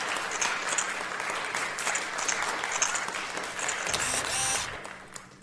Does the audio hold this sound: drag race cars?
no